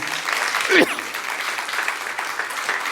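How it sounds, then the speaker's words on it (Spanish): A church congregation applauds in a steady wash of clapping that carries on throughout, moderately loud, while someone speaks over it. "Dele un aplauso si es para él, se lo más fuerte."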